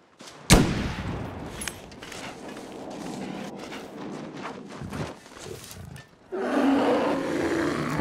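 A single sharp gunshot rings out early at an animal in the survival video game The Long Dark, followed by a lingering echoing tail, some rustling and faint clatter, then a louder ambient wash near the end; no talking.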